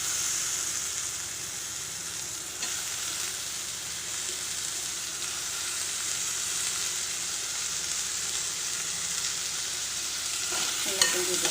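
Tomatoes sautéing in a pan for a crab gravy, giving a steady broadband sizzle that holds evenly throughout with faint stirring scrapes and no voices.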